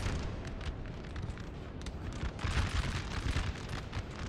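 Artillery fire in Napoleon Total War during a battle in Bohemia: a dense, continuous wash of rumbling booms and crackling blasts, steady and loud throughout with a few heavier bursts, with no voices.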